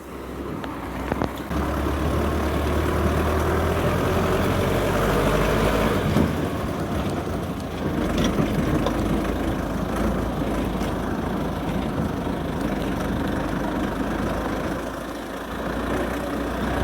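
A truck engine runs hard while hauling firewood off-road through a Ukrainian village, a loud, steady low drone with a rough rumble that holds throughout, close up and without speech.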